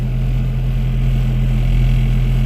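A car engine idling just after a cold start, a steady loud low hum and rumble with no change in pitch and no voices.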